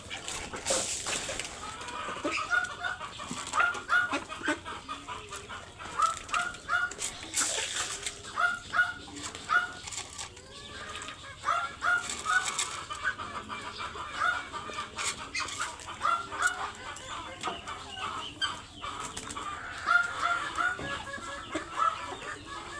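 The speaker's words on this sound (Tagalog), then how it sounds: "Dito naman po tayo sa ating mga itik, pato." Farm poultry kept as domestic ducks mill about in a pen, with steady overlapping clucking and calling from several birds at close range, and no talk over it.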